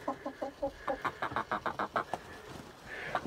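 Hens clucking in a coop during a blizzard, a quick series of about a dozen short rhythmic clucks close by, then a longer squawk at the end.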